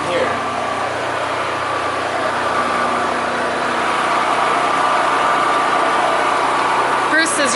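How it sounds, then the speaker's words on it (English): A continuous loud shop vacuum whine drones steadily throughout inside a boat interior, with faint voices underneath. "using the shop vac"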